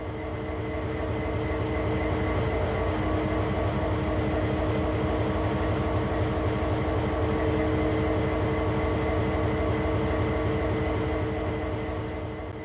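An SD40-2 locomotive in a train simulator, with a 16-cylinder diesel-electric engine rated at 3,000 horsepower, idles with a steady, loud, throbbing rumble. The drone is continuous and close, with a few faint clicks near the end and no talking.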